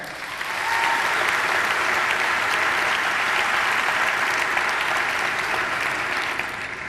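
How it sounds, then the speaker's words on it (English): Pageant audience applauding an introduced judge at the Miss Michigan Pageant, a broad sustained wash of many hands clapping at once, swelling in and holding steady for several seconds with no talk. "Let's have a round of applause for David Schaefer"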